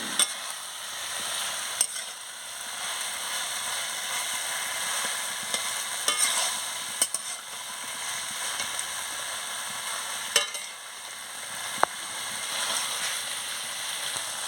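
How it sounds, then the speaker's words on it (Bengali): Malabar spinach stalks, potato and spices being stir-fried in a pan, a steady hissing sizzle with scattered sharp clicks of the spatula against the metal, close and continuous, no voices. "পুঁই ডাঁটা, আলু, মশলা এর সঙ্গে সব কষিয়ে নিচ্ছি।"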